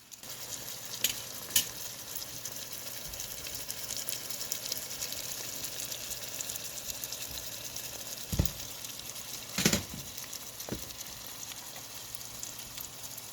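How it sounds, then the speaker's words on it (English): Cabbage and carrots sauté in a pan with a low, steady sizzle, punctuated by occasional knocks and stirring bumps, all fairly quiet with no voices. "let that saute a bit"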